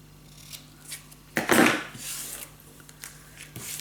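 A single crisp snip of scissors cutting paper while trimming pieces for a burgundy scrapbook mini album, with faint handling rustles before and after.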